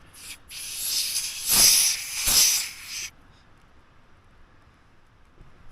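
Compressed air hisses loudly from the hose of a Tough Stuff Overland air compressor in a few surging bursts over about three seconds, then cuts off into near silence.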